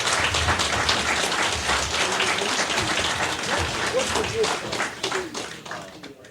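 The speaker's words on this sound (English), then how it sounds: "Nice round of applause once again for Jimmy Spencer" A studio audience gives racing driver Jimmy Spencer a sustained round of applause, dense and fairly loud throughout, tapering off at the very end.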